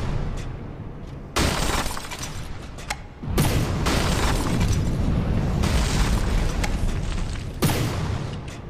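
Weapons fire and explosions in the naval combat game From the Depths erupt in loud, heavy bursts, one blast after another with brief lulls before sustained roaring booms and crashes.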